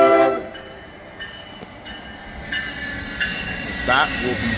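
A multi-level commuter train rumbles past nearby on the Northeast Corridor at Metropark, with a loud horn blast at the start and a steady rolling drone of cars going by.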